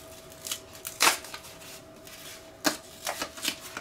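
Small scissors snip a hole in a mini plastic Ikea zip bag, producing a few sharp, close cutting clicks and light plastic crinkling in a quiet room.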